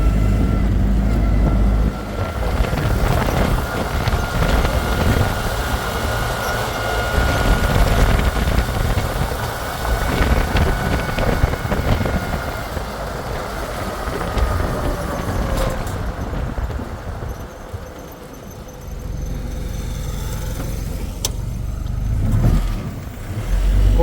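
A grandfather's old Jeep driving down a road after a frame swap, its engine droning steadily from inside the cab with road rumble and a few rattles and knocks, easing off briefly before picking up again.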